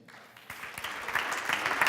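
An audience at a conference applauds, the clapping starting abruptly and swelling into a dense, steady patter of many hands.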